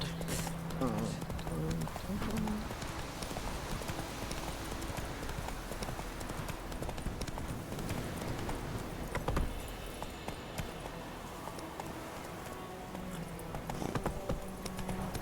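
Hooves of the horse Roach clip-clopping in a fast galloping rhythm in the video game Witcher 3, steady and close, with a voice talking over it and game sounds behind.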